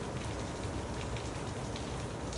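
Steady, dense rain pours continuously onto surfaces, a constant hiss of drops with no pauses, gentle and enveloping like an ASMR rain backdrop.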